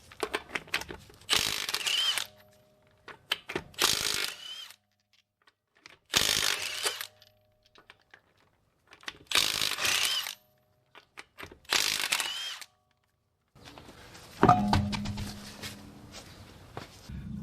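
A ratchet or wrench works 22 mm lug nuts off a 2010-2016 Buick wheel, bursts of fast close clicking and rattling separated by quiet gaps, with a few metallic clanks near the end.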